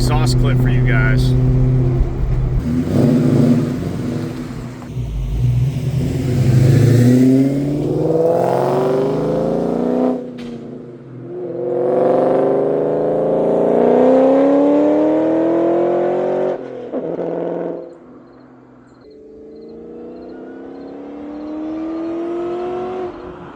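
A Ford Terminator Cobra's exhaust revs repeatedly, each rise sweeping up in pitch and dropping off, loud and close, with a few seconds of idle burble between pulls.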